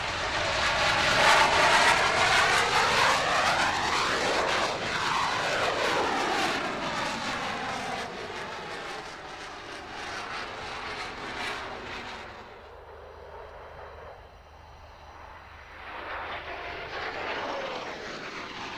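A Royal Netherlands Air Force F-16 fighter jet roars loudly through an air show display, its engine tone sweeping up and down as it manoeuvres close by, then fading into a quieter distant rumble before swelling again.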